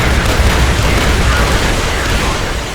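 A Securitron's M235 missile launcher firing in Fallout: New Vegas: a loud, dense, sustained roaring rumble of launch and blast that fills the clip and fades slightly at the end.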